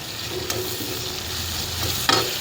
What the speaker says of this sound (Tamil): ஸோ இந்த நேரத்தில் நம்ம அலசி வச்சுருக்க கருவேப்பிலை புதினா போட்டு இப்படி வதக்கிக்கிறோம்.